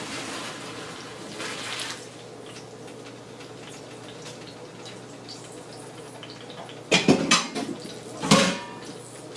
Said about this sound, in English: Turn that heat off and let's get it into a colander.